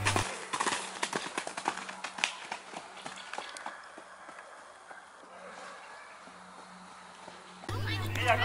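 A horse trots at a show jumping competition, its hoofbeats giving a quick run of rhythmic clip-clop thuds that fade over several seconds, with a voice talking over the start and background noise returning at the end.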